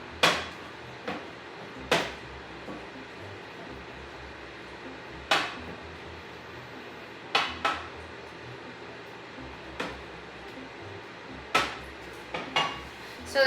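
Potatoes for a Spanish omelette get stirred in a pan, with scattered clinks and scrapes of a utensil against the metal over a soft background hum, fairly close and irregular.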